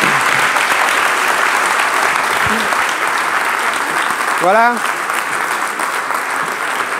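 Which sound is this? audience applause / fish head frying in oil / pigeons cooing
audience applause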